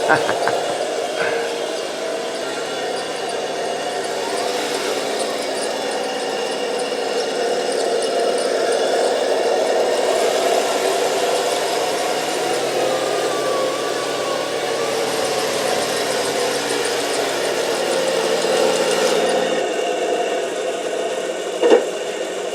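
A hobby-grade radio-controlled tank with rear drive sprockets runs steadily nearby, giving a continuous mid-pitched motor whine with track rumble that rises and falls over about twenty seconds, ending in a brief sharp knock.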